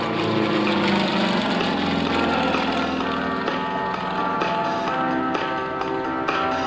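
An aerobatic plane's engine drones loud and steady at an air fair as the aircraft rolls through a Cuban 8, its pitch wavering slightly over a continuous roar with no voices.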